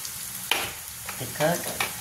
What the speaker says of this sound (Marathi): फिरवत राहायचं. गॅस कमी करायचा.